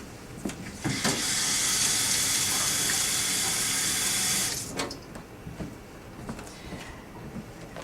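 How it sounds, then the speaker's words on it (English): A tap runs hard into a sink for handwashing in a hospital patient room, a loud steady gush lasting about four seconds before shutting off, followed by faint splashes and small handling clicks, with no talk. "I'm going to go wash my hands."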